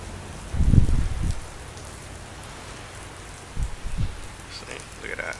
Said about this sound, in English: It's raining and stuff.